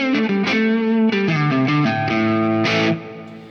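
An electric guitar plays single-note lines through reverb and delay, each sustained pitch ringing clearly into a wide wash before fading, loud and alone.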